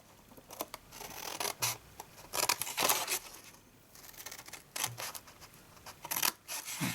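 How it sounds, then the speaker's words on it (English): Scissors cutting cardstock along score lines while making a handmade gift purse, with a run of brief rasping snips and scrapes spread across the stretch, close and fairly quiet. "then we're just going to cut up each of these score lines."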